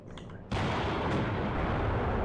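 Gunfire in a military strategy video game opens into a sustained, loud, noisy burst of shots that fills the rest of the clip after a quieter start.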